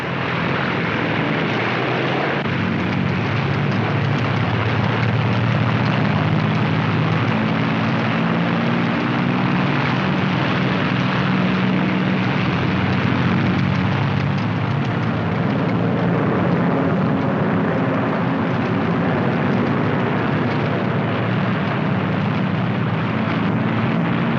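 A continuous, loud roar of heavy propeller bomber engines droning steadily at full power during takeoff at night in England, 1944, dense and unbroken throughout.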